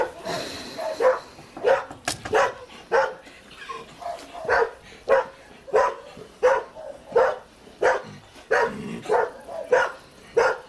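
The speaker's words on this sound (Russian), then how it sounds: "Собака, опасайся." A dog barks repeatedly in a steady rhythm, about twenty sharp, mid-distance barks in a row in a rural village, with a few whimpering yips between them.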